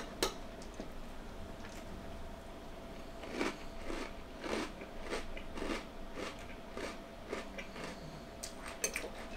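Someone chews Cocoa Puffs cereal with milk, close and fairly quiet, in a steady series of short crunchy bites over a low constant background hum.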